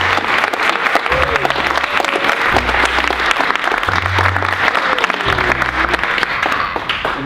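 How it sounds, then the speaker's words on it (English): A film cast and crew applaud at their picture wrap, a dense burst of close clapping with cheers mixed in that carries on steadily for several seconds. "Give yourselves a round of applause."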